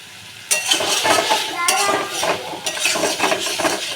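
Spices being stir-fried in a pan while cooking Bengali boyal fish curry with green chillies, with steady sizzling and repeated scraping and clinking of a spatula against the pan, close and fairly loud.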